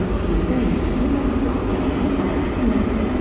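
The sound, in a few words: train at Amsterdam Central station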